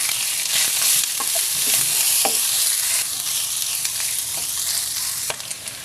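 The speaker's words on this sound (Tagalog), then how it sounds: "I-stir fry ko muna itong ating tumbong." Tumbong (pork intestine) stir-fried for sisig, loud bright sizzling of fat in the pan with scattered sharp spatula scrapes and clicks over a constant frying hiss, no voices.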